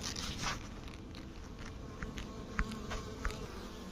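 Honeybees buzz in a soft, steady drone close by at an opened hive, with occasional sharper clicks and scrapes from handling frames in a quiet setting.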